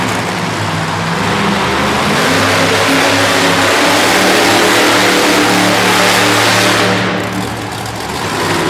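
Monster truck engine revving hard and continuously at close range during a racing run at an arena event in Harrisburg, PA, with a possible transmission problem; loud sustained roar with a brief dip near the end.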